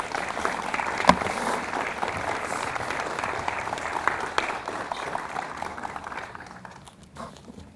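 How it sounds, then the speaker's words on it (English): Applause at a building dedication ceremony, dense crowd clapping held at an even level, then thinning and fading toward the end. "let's give them a round of applause to thank them"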